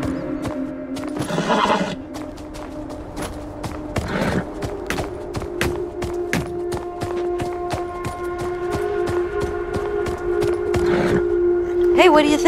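In the Beyond: Two Souls video game, a horse whinnies several times over a steady rhythmic clatter of hooves, with a low continuous tone beneath and loud, close sound throughout.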